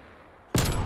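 Sniper rifle fire in Call of Duty Cold War, a single sharp loud shot bursting in suddenly after near silence, with a ringing tail.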